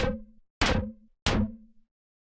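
Three harsh, distorted synth lead hits, each stacking two overlapping notes with a buzzy upper edge, spaced evenly and decaying quickly into silence between them, loud and alone.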